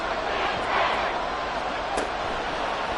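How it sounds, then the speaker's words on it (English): Stadium crowd noise from a Madden 24 American football game, a broad steady roar of cheering fans that swells briefly, loud and continuous beneath a play-by-play voice. "This crowd doing all they can."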